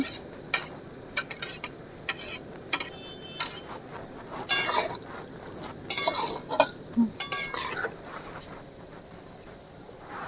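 A spoon stirs soybean dopiaza with sauce, fried onion and capsicum in a pan, giving a run of short, close scraping clatters in uneven bursts that ease off toward the end, with no voices.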